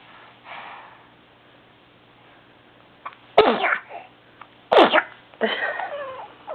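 A baby sneezes twice in quick succession, each a sharp close burst, followed by a short snuffly vocal sound, against a quiet room background.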